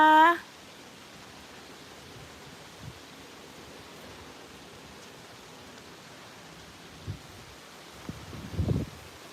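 Wind blowing beside a lake in Sweden makes a soft, steady rushing hiss throughout. A brief voice comes at the very start, and a few faint bumps and gusts follow near the end.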